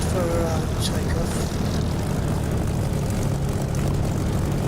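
Spitfire propeller engine in the DCS flight simulator, a loud, steady droning roar at takeoff that holds throughout, close and continuous.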